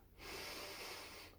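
A single slow, deep exhale of breath, soft and close, breathy hiss lasting just over a second with nothing else around it.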